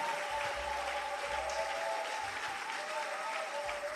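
A church congregation applauds steadily, a dense wash of clapping that holds at an even, moderate level with a faint sustained tone underneath.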